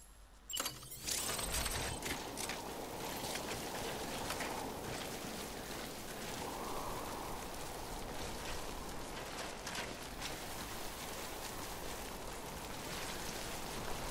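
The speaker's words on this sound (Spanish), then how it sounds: "Y nos resguardamos de la lluvia." Steady rain hisses in the Death Stranding video game, starting after a brief quiet moment and then running as a dense, even wash throughout with a few faint clinks over it.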